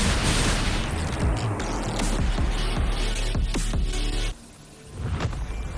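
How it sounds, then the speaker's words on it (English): Explosion in the video game Wuthering Waves, a dense barrage of booms and crackling blasts that rolls on loudly for about four seconds, briefly drops away, then rumbles back in. "What caused the explosion?"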